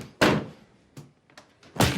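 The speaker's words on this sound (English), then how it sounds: "Let's open the door," An indoor door is handled, giving a sharp knock and thunk, a lighter bump and a few small rattles, then another heavy thud as it opens, close by, with no talking.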